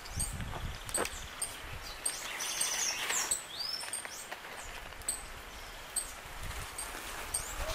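A saffron finch (Sicalis flaveola) sings outdoors, short sharp chirps and clicking notes repeated at intervals, fairly faint over a soft rustling background.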